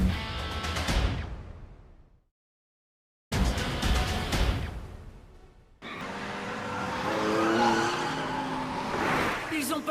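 Anime race cars tear through mountain hairpin turns in an Initial D street race, with loud engine roars and tire squeals in bursts separated by a silent gap, followed by sustained engine noise.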